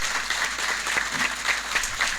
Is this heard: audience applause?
yes